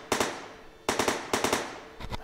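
AK-47 fired on a shooting range in a VR sandbox game: short bursts of rapid automatic fire, three or four rounds each, separated by brief pauses and ending in a fainter burst, loud and close with no talk.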